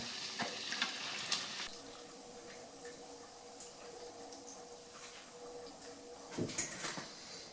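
Soft, steady crackling sizzle of doughnuts frying in hot oil, with occasional clinks and scrapes of a utensil nearby.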